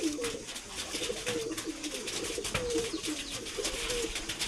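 White gold pigeons coo continuously inside their loft, close and overlapping, with a constant low background hum throughout.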